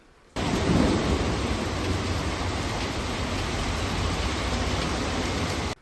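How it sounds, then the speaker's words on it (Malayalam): Heavy rain pours right after a hailstorm in a dense, constant roar that starts abruptly and stays loud, with a low rumble of thunder early on. "തൊട്ടു പിന്നാലെ മഴ കനത്തു പെയ്തു"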